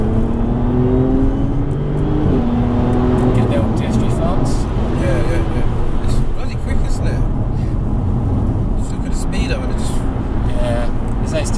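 Engine of a widebody Audi S4 on fast-road height-adjustable suspension, loud and steady from inside the car as it accelerates and changes up through the gears, with rising tones broken by shift steps and a person talking over it.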